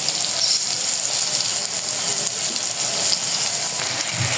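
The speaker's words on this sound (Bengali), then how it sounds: "এই যে করলা ভাজি" Sliced bitter gourd (karela) frying in oil in a pan, a steady close hiss and crackle of sizzling that continues evenly throughout with faint bubbling pops.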